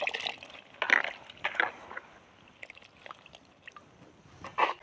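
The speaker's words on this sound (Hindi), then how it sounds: "बाल्टी में भर के पानी ले लें और डुबो के ना इस बथुए को कुछ इस तरीके से धोएं" Bathua greens are dunked and swished in a bucket of water, making several splashy sloshing bursts with quieter dripping and rustling between them at close range.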